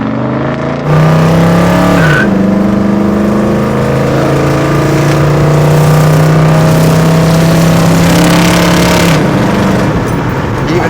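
An engine roars loudly up close as the car accelerates, its pitch climbing and dropping sharply at a gear change, then holding a strong steady drone through the next gear; the car may be an '84 Cadillac Coupe DeVille or an '86 GMC Caballero.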